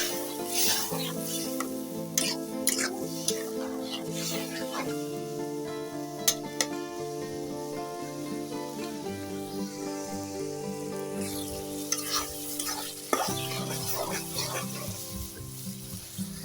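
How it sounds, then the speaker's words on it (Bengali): Beef tripe fries in a pan with a steady sizzle as water is added, accompanied by stirring and occasional clinks of utensils against the pan, with a voice talking quietly in the background. "এখন কিন্তু পানি দেব।"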